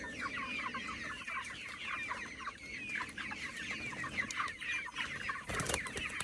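A flock of chickens clucks busily and overlapping in a feeding frenzy, fairly faint and continuous, with a brief scraping rustle near the end.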